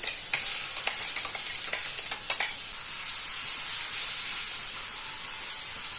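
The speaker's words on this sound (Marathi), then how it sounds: "एक 3-4 सेकंद हे छान परतून घ्यायचंय तेलावरती।" Hing, turmeric, cumin and chili-ginger paste sizzle steadily in hot oil, a constant bright frying hiss with a few sharp clicks of a spoon stirring the pan near the start, no voices.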